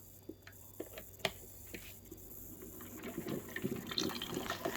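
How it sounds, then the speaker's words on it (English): Heavy whipping cream pours into a separate cup, giving a soft trickling and filling sound broken by small clinks, quiet and close, with no speech. "I use heavy whipping cream, and I just use a separate cup and pour a little bit of that in."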